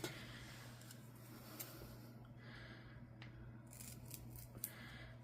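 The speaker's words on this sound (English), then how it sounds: "I think I need to cut one of these in half though" Scissors snip through a sticky Velcro dot, cutting it in half with a few faint, sharp clicks and quiet rustles in a hushed room.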